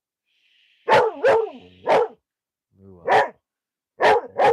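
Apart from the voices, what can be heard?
dog barking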